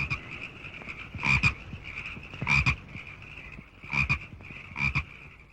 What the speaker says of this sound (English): Listen to those frogs croaking.